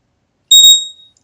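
A price alert alarm for stock and crypto trading sounds once, a short bright electronic chime that rings out and fades quickly, loud and alone against silence.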